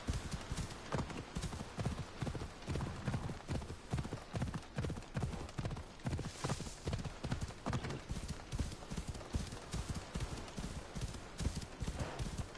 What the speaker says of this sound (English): The sound of the horse in the sand, brilliant.